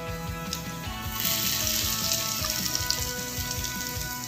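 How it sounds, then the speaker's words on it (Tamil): Mustard seeds, curry leaves and chilies temper in hot ghee, a dense, close sizzle and crackle that holds steady throughout, with small popping bursts over quiet background music. "இதுக்கு தாளிக்கிறது வந்து நெய்யில் கடுகு கருவேப்பிலை மிளகாய் வந்து ஆட் பண்ணியிருக்கேன்"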